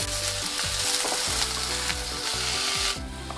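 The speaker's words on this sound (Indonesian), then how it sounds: "Kita aduk merata dulu." Bitter gourd and large red chilies sizzle and fry in a pan with ginger, a utensil stirring and scraping through them in repeated strokes, close and steady with no talk.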